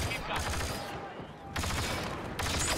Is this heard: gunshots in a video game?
yes